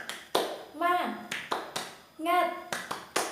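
A fourth-grade class does a rhythmic spirit clap together, with sharp claps in a repeating pattern and children chanting in between.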